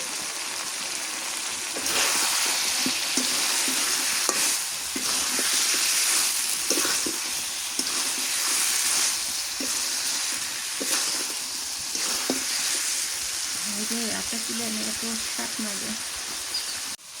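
Potatoes fry in a hot pan while being stirred, a loud continuous sizzle broken by scraping strokes of the spatula, with faint talk near the end.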